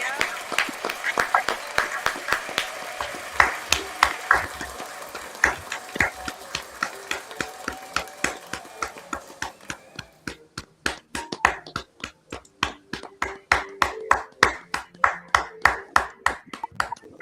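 A church congregation claps hands for the Holy Spirit in steady, rhythmic unison, the sharp claps loud and close, with voices beneath them in the first half before the claps ring out more cleanly on their own.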